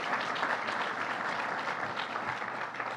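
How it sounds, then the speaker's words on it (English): Applause from the crowd at an event opening a Woodbury transit hub, greeting legislative partners; the clapping is steady and fairly soft, heard from a distance throughout. "Give him a round of applause"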